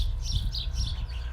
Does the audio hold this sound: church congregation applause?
no